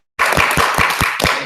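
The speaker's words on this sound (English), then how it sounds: "Clap for Sakai." Audience clapping in an improv show's vote, starting abruptly after a brief silence and continuing as a loud, dense burst of hands with a few sharper accents for just over a second.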